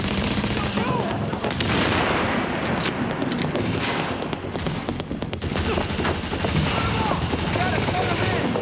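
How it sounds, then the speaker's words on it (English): Dense, sustained gunfire from a firefight in Tom Clancy's The Division video game, with rapid overlapping shots and bursts continuing loudly throughout while a voice speaks briefly over the action. "So many gunshots."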